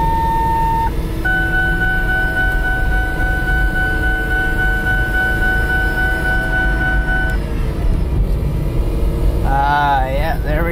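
A truck reported to slip a little in first gear is test driven, its engine rumbling and road noise droning steadily throughout, with faint whining tones and a voice breaking in near the end.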